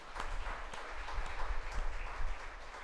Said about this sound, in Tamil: கைத்தட்டி ஆண்டவருக்கு நன்றி சொல்லுங்கள்.